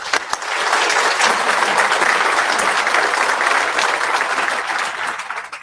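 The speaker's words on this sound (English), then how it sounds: "I want to give them a round of applause" Applause fills the room at a White Coat Celebration honoring a medical class. Many hands clap in a loud, dense, continuous burst that starts sharply and fades only at the very end.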